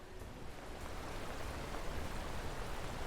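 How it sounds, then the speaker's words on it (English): Flowing water rushes loudly and without a break in the video game Paradise Killer, a dense, close hiss that stays even from start to finish. "Does that water have to be so goddamn loud?"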